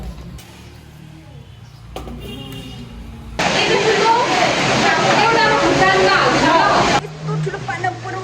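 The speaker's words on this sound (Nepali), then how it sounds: "कत्रो पानी परिरहेको" Heavy rain pours in a loud, dense hiss that swells suddenly midway and then eases off, while voices chat in the background.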